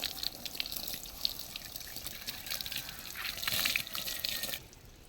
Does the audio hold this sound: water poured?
yes